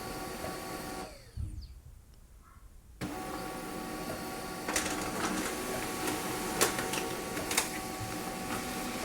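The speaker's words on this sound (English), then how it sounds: "it's printing on both sides right now" An HP LaserJet MFP M234sdw laser printer running a double-sided print job gives a steady mechanical whir that pauses, then resumes with added clicks and paper-feed clatter, close and moderately loud.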